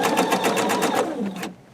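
A sewing machine stitches a log cabin quilt block in a fast, steady run of needle strokes, close and loud, then cuts off abruptly near the end.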